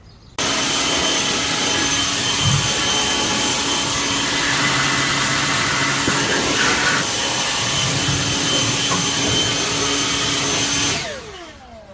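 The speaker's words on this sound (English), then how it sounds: "my blower that I'm gonna blow off all the heavier particles off of it" Air blower clearing heavier particles off a car, a loud steady close-up rushing roar that starts abruptly, holds for about ten seconds and then cuts off.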